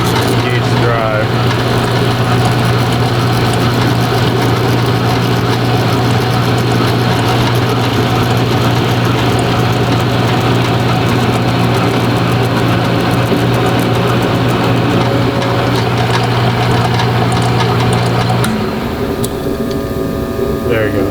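Metal lathe turning with the drive engaged while knurling a part in a fabrication shop, a steady mid-pitched machine hum running continuously and close, then shifting in tone as the drive stops near the end.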